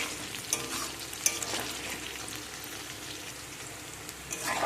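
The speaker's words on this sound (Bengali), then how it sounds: "এই হাই হিটে এগুলোকে ভালো করে একটু নাড়াচাড়া করে ভেজে নিতে হবে।" Soybean chunks fry in hot oil over high heat, a steady close sizzle with scattered pops and a few scrapes of stirring throughout.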